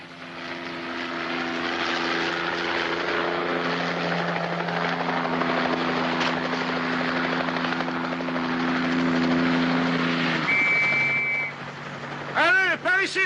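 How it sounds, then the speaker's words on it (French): A steady, droning helicopter rotor hum fills the scene, loud and continuous, with a brief tone and a few chirping sounds near the end. "Regarde, l'hélicoptère. Dès que tu le verras, fonce par là."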